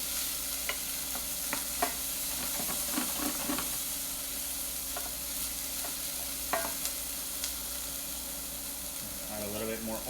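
Chopped vegetables for a bisque sweat in oil in a pan, with an even, constant sizzle broken by occasional scraping and tapping from stirring, and a voice briefly speaking near the end.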